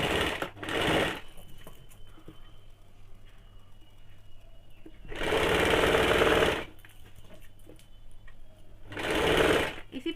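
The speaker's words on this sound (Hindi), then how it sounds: "इसी प्रकार से पूरे में सिलाई चला लेंगे।" A sewing machine stitching along the folded edge of a kaftan nightie, in three loud bursts of steady running separated by quieter pauses with low background hum.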